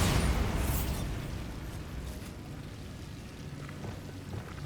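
A Bombarda spell explosion in Hogwarts Legacy bursts with a sharp opening crack, then breaks into a crackling, rain-like patter of debris that fades to a steady rustle over several seconds.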